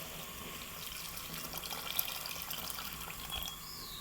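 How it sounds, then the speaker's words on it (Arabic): Water is poured into a pot in a kitchen, a steady, faint splashing trickle that runs continuously with small surges and no voices. "راح نصب ليه الماء"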